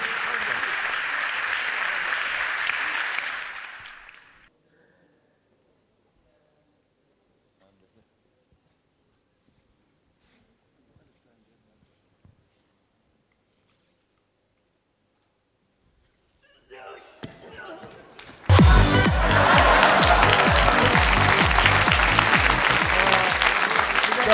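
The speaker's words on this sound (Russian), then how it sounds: "Давайте, все проходит под аплодисменты." Audience applause at a televised Russian awards show, a burst of clapping that fades out, a long near-silent gap, then a loud dense wave of applause returning and holding to the end.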